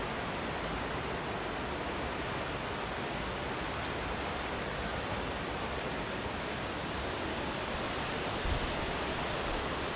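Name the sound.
sea waves at a Konkan beach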